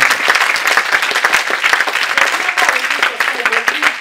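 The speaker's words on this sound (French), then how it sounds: "Est-ce que quelqu'un peut acclamer?" A church congregation applauds together, steady loud clapping with a few voices mixed in, filling the whole moment.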